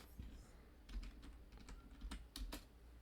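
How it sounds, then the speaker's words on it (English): Faint clicks of fingers typing on a computer keyboard, a quick irregular run of keystrokes with a few sharper taps, heard softly in a quiet room. "Was that the sound of you typing to make sure you were right about that?"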